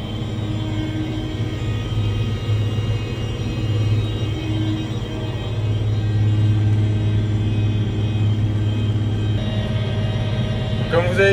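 A farm vehicle crosses a field at 20 to 30 km/h, its low engine rumble and cab drone steady and close throughout, growing slightly louder midway, with a short rattle at the end.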